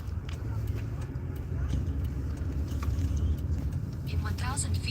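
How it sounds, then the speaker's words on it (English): Road traffic rumbles steadily around a moving car in Idaho, a low continuous drone with passing vehicle noise, while people talk over it. "Traffic."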